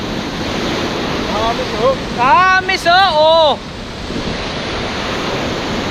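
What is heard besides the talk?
sea waves at a beach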